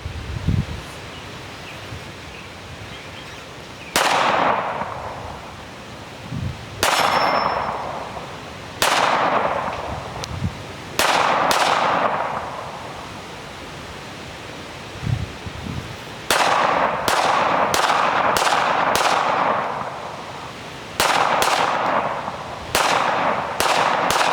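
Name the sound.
gunshots from pistol caliber carbines hitting steel targets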